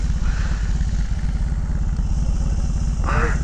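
A BMW R18 motorcycle's big boxer engine runs close and loud with a steady, throbbing low pulse, and a brief voice cuts in near the end.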